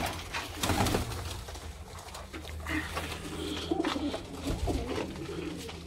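Kamagar pigeons coo steadily in a loft in Sialkot, soft rolling calls repeating close by over a low background murmur, with no clear talking.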